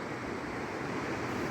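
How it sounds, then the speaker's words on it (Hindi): The Tons river flows in a broad, steady rush of water, a continuous roar heard from nearby with no voices. "टोंस नदी का ये बहाव है यहाँ।"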